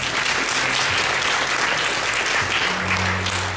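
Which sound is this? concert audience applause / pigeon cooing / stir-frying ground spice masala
concert audience applause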